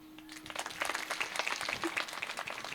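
An audience at a devotional discourse claps along in a quiet, steady patter of many hands, fairly distant and soft throughout.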